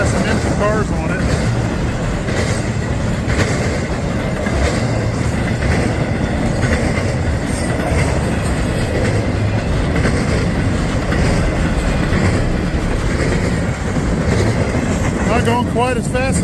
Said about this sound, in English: Rolling eastbound